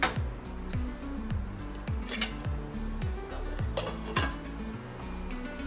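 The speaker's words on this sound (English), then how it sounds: "Give it a nice stir." A spoon stirs vegetable soup in a pot, clinking and scraping against the metal in a quick, regular rhythm of strokes, close and steady throughout.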